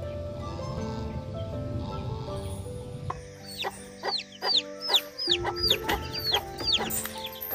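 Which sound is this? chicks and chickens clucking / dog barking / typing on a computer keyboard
chicks and chickens clucking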